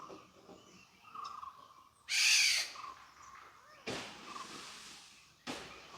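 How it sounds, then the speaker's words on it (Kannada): Loud, harsh broadband calls from a hornbill burst out in three separate bouts, each roughly a second long, over a quiet forest background with faint tonal birdsong between them. "ಹಾರ್ನ್ ಬಿಲ್ ಸೌಂಡ್ ಕೇಳಿಸ್ತಾ ಇದೆ"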